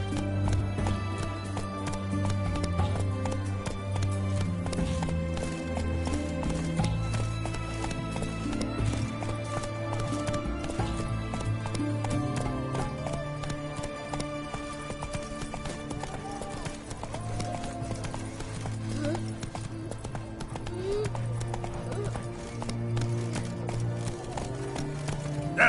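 Roach the horse gallops in The Witcher Wild Hunt game, a steady rhythmic clip-clop of hooves running continuously at close range, with a faint whinny and some game music underneath.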